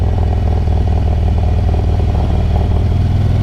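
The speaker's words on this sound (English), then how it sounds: "first gear and just let the engine do the work, slowing you down" A motorcycle engine braking in first gear at about 20 mph while descending Mount Washington, low steady revs with a deep, continuous rumble and mechanical clatter, loud and close, with no talking.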